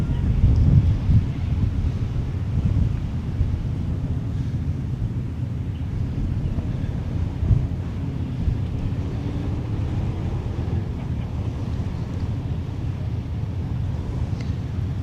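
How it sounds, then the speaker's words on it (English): Strong, steady wind buffets the microphone at an off-road motorkhana event in a low, rumbling roar that runs throughout, with gusts swelling at the start and near the middle. "Getting actually really, really windy out here."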